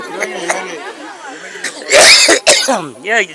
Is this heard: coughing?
yes